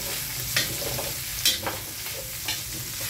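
Kangkong (water spinach) and pork sizzle steadily in a pan while being sautéed, with a few sharp spatula scrapes and stirs breaking through the constant frying hiss.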